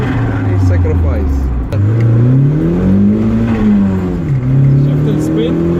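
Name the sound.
Mitsubishi Evo engine revving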